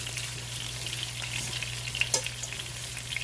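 Rice browns in melted butter in a skillet, giving a soft, steady frying sizzle with occasional faint crackles and a light clink partway through.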